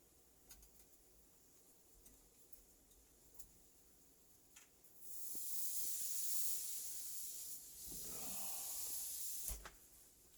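A hot brazed copper joint on an evaporator coil hisses and sizzles loudly for several seconds as a wet rag is pressed on to cool it, with small ticks and clicks before and during.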